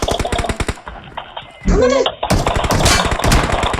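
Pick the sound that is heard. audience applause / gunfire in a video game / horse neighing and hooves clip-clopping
gunfire in a video game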